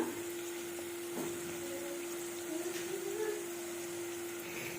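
Food sizzles and fries in a pan as fried rice is cooked, a steady even hiss with a constant hum under it and no breaks.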